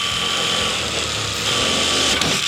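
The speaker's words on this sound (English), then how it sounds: "we're going to use a 1/4 inch bit, drill into the center" A power drill with a 1/4-inch bit drills into a swimming pool cover channel, whirring continuously at high speed, a steady mechanical whine with grinding texture, close and loud throughout.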